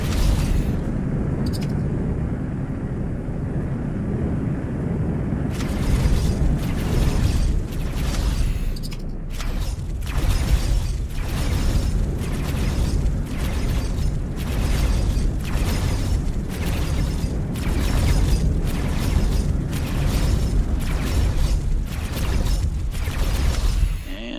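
Ship weapons fire and explosions in the space game X4 Foundations, a loud, dense barrage of rapid repeated bursts and booms that continues steadily throughout.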